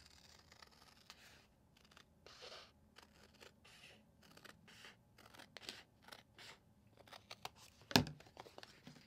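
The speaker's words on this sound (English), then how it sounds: "I think I need to trim a little bit off the top of it there." Scissors trim napkin decor on a Dollar Tree Easter sign, making soft repeated snips and paper rustles, then one sharp, loud cut near the end.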